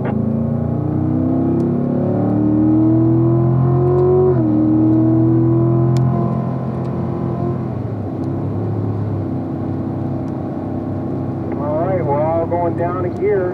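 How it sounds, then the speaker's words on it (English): A car at full throttle on a race track at Spring Mountain, its engine droning loud and close with rising pitch sweeps as it accelerates, then an upshift and a fresh climb, with wind buffeting and a faint voice. "Full throttle."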